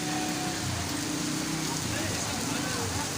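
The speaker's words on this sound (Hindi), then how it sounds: "काफ़ी तेज़ बारिश" Heavy pre-monsoon rain pours down steadily in Taxila, a dense continuous hiss of drops on surfaces, moderately distant and unbroken, with faint voices in the background.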